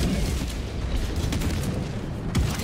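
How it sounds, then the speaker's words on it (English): Deep booms and rumbling blasts roll through a Helldivers 2 battle, a dense, loud wash of explosions with one sharper burst near the end and no talking. "Don't worry about the explosions."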